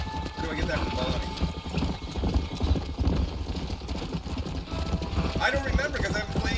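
Hoofbeats of several horses in Red Dead Redemption, a steady clip-clop rhythm running throughout, mixed with game ambience and occasional whinnies, with a voice talking over it.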